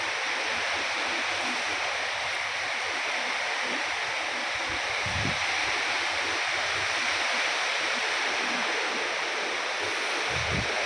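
Rain falls on a terrace garden of flowers and roses, making a steady, dense wash of patter and hiss with a few soft nearby drips and knocks.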